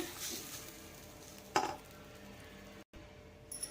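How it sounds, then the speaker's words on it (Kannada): Hot tempering (oggarane) is poured onto cooked rice for curd rice, giving a brief, quiet sizzle with soft stirring and utensil scrapes nearby. "ಅದಕ್ಕೆ ಹಾಕೋತೀನಿ ಒಂದು ಒಗ್ಗರಣೆ"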